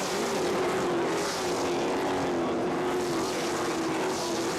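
Race car engine roaring steadily at Watermelon Capital Speedway during a 2012 CRA SpeedFest race, coming out of turn four; a sustained loud drone with other cars blending in.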